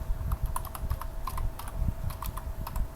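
Fingers typing on a computer keyboard while entering data into an Excel spreadsheet, a quick irregular run of light clicking keystrokes, close and alone.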